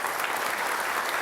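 A studio audience applauds for Pak Basuki at a televised Jakarta gubernatorial election debate, a dense, steady wash of clapping from many hands that fills the moment without pause.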